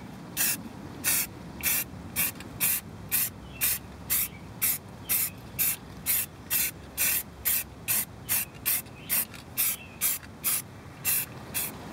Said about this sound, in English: so I'm going to hit it with one last coat of paint.